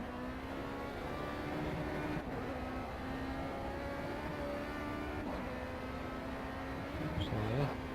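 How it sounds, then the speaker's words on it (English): Go-kart engines racing in Project CARS: a continuous high, buzzing engine drone held close and steady, with slight pitch shifts as the karts accelerate, while someone talks over it. "Go-kart, just racing go-karts against each other."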